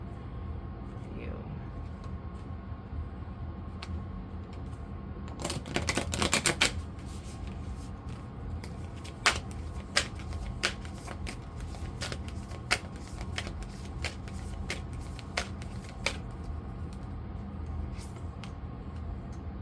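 Tarot cards are shuffled and drawn, with a brief close riffle burst followed by scattered crisp card snaps and flicks over a low background hum, while someone talks softly at times.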